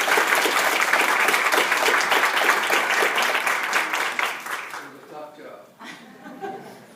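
Applause at a church annual meeting: a dense burst of clapping with some chuckling that fades after about five seconds into scattered claps and murmuring voices.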